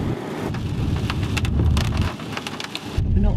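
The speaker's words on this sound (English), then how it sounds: "It's raining cats and dogs again." Heavy torrential rain pours down outdoors, a dense, constant roaring hiss of drops close by with a low rumbling undertone, heard alone without voices.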